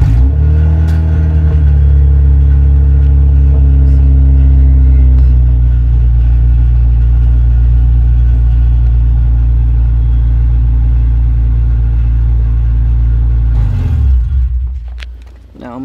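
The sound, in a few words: Honda Civic engine starting and revving on Accord ECU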